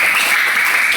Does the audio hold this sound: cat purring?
no